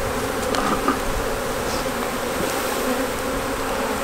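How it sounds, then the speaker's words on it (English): Honeybees buzz steadily around queen-rearing hives outdoors, a dense continuous drone of many insects close by with no talking. "And bees are flying now."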